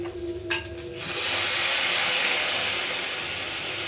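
Water splashes into a hot pan of chira pulao with potatoes, a brief pour then a loud, sustained steam hiss that slowly settles.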